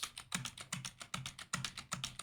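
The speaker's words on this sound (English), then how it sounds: "use the arrow keys just to go down" Computer keyboard keys tapped in a steady run of about a dozen crisp clicks while arrow-key navigation is done during music production work, close and clear with no voices.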